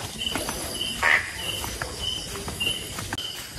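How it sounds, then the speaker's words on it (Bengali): Crickets chirping in pitch darkness on a rural village dirt path, a steady thin high trill with short repeated chirps, faint and continuous, with soft footsteps along the way. "ঝিঝি পোকার ডাক ছাড়া আর কিচ্ছু শোনা যাচ্ছে না।"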